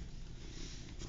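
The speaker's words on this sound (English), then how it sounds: "Hopefully you can hear them purring." Kittens purr close to the microphone in a soft, steady rumble that lasts only a moment, with no talking.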